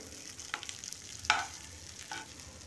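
Stuffed bitter gourd (korola) coated in a spiced filling frying in a pan, a steady soft sizzle with a few sharper crackles and spatters, fairly quiet and without any talking.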